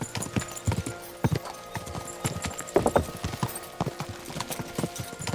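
In Kingdom Come Deliverance 2, a fast horse gallops with steady rhythmic hoof clops close by, a brief whinny rising partway through, with no talk over it.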